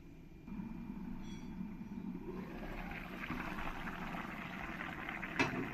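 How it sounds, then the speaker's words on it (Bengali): Bottle gourd and fish curry gravy simmers in a covered pot, giving a steady low bubbling hiss that grows a little louder partway through, with a brief clink near the end and no voices. "যখন তরকারির ঝোলটা এরকম ভালো করে ফুটে যাবে"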